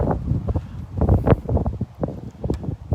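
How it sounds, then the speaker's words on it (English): Gusty wind on a beach buffeting the microphone with low rumbling bursts that rise and fall continuously, close and fairly loud. "Boy, it is windy here."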